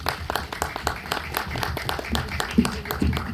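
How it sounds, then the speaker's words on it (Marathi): Audience applause at a film trailer launch, a brief burst of scattered, moderately loud hand clapping from a seated crowd, with a little background chatter. "तर जोरदार टाळ्या"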